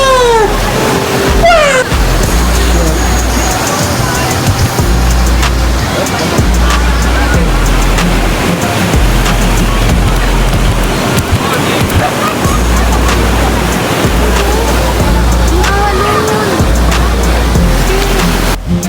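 Sea waves at Nagtabon Beach in Palawan roll in steadily, a loud, close, continuous wash of surf with wind noise and brief faint sounds in the background.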